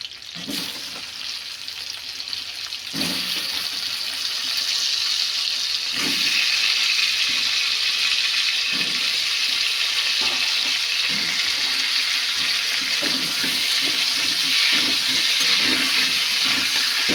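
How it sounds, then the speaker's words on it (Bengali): Potatoes frying in mustard oil for a Bengali chicken biryani, a steady loud hiss of sizzling oil that builds and holds, with occasional soft knocks of a utensil in the pan. "সর্ষের তেল দিয়েছি, আলুগুলোকে ভালো করে লাল লাল করে ভেজে নেব।"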